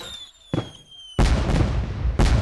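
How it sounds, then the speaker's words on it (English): Fireworks going off in the Zompiercer video game: a few sharp pops followed by a loud, sustained crackling burst, with another blast at the end. "Well-deserved fireworks."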